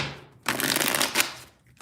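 Tarot cards being shuffled by hand during a mini reading: a close, crisp riffling burst of paper flicks, with faint handling rustle before and after.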